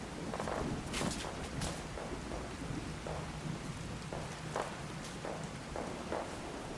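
Steady rain pours in Fallout 4, with thunder rumbling through it and occasional louder bursts of downpour. The wash of rain is continuous and fairly loud, with no talking.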